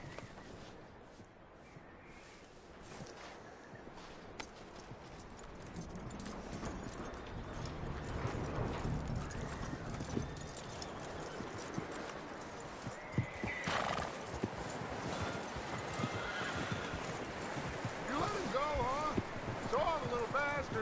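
A horse in Red Dead Redemption 2 whinnies and its hooves clip-clop steadily over ambient game sound, growing busier as the clip goes on.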